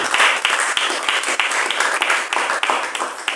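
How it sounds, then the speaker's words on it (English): An audience at a textile workshop exhibition applauds steadily for a performer, dense clapping filling the whole stretch at a fairly loud, even level with no voices over it. "Please, another round of applause for him"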